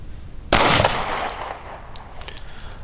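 A single sharp, loud 10 mm shot from a Glock 20 pistol cracks at an outdoor target range, followed by a decaying echo and faint metallic pings, with no talk.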